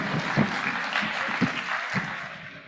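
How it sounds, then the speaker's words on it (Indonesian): Audience clapping at an Indonesian launch event for a 2004 Aceh tsunami memorial project, a moderate steady patter of hands filling the room at a fair distance. "kita berikan tepuk tangan yang meriah"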